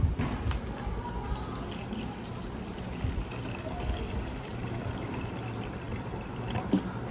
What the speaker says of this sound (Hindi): अभी फिर से हम लोग को 200 ml पानी लेना है इसमें